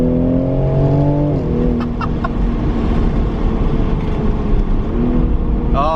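A 2020 Toyota Supra engine revving up and dropping back, its pitch climbing and falling in steps over a steady loud rumble, heard close up.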